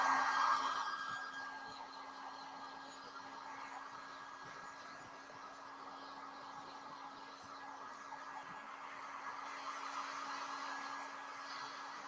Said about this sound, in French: je vais un petit peu faire aller mon décapeur thermique pour dire de sécher un peu ma peinture